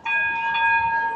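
A tram stands on its line with a steady bell-like electrical tone ringing continuously, loud and close, with no talk over it.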